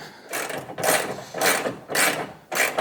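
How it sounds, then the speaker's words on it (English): A socket ratchet with a 12mm socket turning a bolt to remove a car's factory horn, giving five loud, close, rhythmic clicking bursts about half a second apart, with no talk. "Alright, so we got our 12mm socket. We're just going to take off the factory horn."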